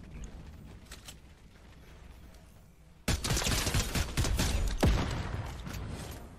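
Gunfire in the video game Fortnite starts after a quiet, low-level stretch, then erupts into loud, rapid bursts of shots that rattle on for several seconds.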